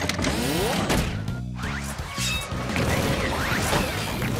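In a cartoon, a grappling hook clanks and catches a sliding cabin, giving loud metallic crashes and ratcheting, grinding rattles that continue over about four seconds, with no talk.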